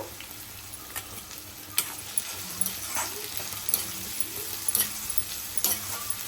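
Green chillies, curry leaves and onions fry in hot oil for pesarattu pulusu, a continuous close sizzle punctuated by sharp clinks and scrapes of a spoon against the pan at irregular intervals.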